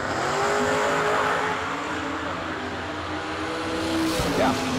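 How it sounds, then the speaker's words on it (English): A Chevrolet Camaro drag racing car at a drag strip roars past with a loud, sustained engine drone that fades and shifts pitch, and a brief sharper burst comes near the end. "That's a Camaro."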